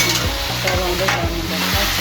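Chicken meat fries in a pan, sizzling steadily while being stirred with rhythmic scraping strokes, close and loud with no voices.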